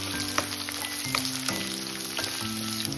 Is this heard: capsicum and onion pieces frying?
yes